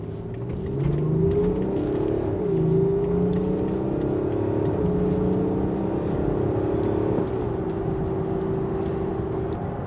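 A 2015 BMW X6 SUV accelerating on the road, its engine note rising steadily and shifting through gears over continuous tyre and wind roar, heard from inside the cabin.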